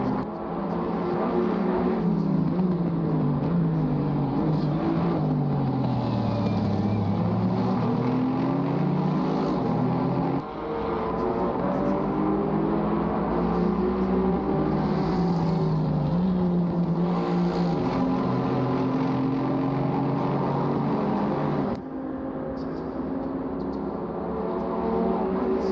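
GT4 race cars, including an Alpine and an AMG, racing at Snetterton circuit, with engines rising and falling in pitch as they accelerate and pass, a loud continuous roar with no talk.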